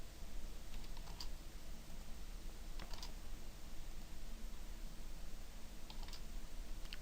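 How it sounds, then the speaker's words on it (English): Keyboard keys and mouse clicks at a computer running a 2-D electrical drafting program, a few scattered sharp clicks over a steady low hum, quiet and close with no talking. "Now I'm going to hit spacebar to get out of it. Right click to get the home run again. Left click to get the conduit again."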